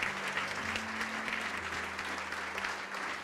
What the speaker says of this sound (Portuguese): E vamos aplaudir ao Senhor Jesus por cada vida que está chegando.